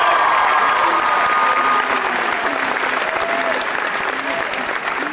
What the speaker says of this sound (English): Let's hear it, Ms. Ida Perales.